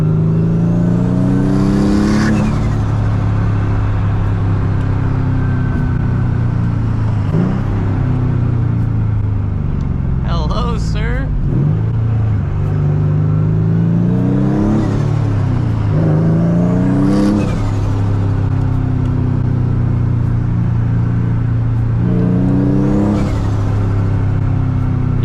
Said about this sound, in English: when you press the gas in this car, it goes